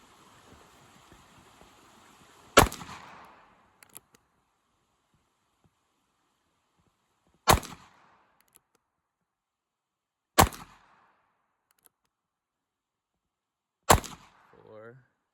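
Four sharp, loud gunshots from a Heritage Rough Rider .22 revolver fired at an outdoor target, spaced several seconds apart, each a crisp crack with a short echoing tail against quiet background.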